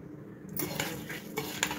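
A spoon stirs makhana bhel with lemon and sev in a bowl, producing close scraping and clinking with a few sharper taps against the bowl.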